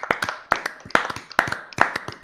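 A small group claps in a rhythmic pattern, bursts of sharp hand claps repeating about every half second, close and distinct with quiet gaps between.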